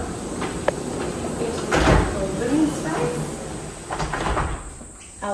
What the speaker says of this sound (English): And then you have this great door that opens right up.